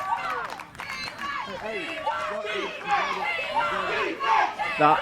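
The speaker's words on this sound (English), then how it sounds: "Listen to this crowd." A crowd at an under-12 American football final roars and shouts with overlapping voices, loud and continuous, rising in bursts toward the end.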